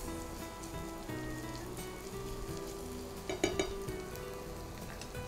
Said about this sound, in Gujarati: લસણ ગોલ્ડન કલરનું થાય ત્યાં સુધી આપણે એને સૌતે કરવાનું છે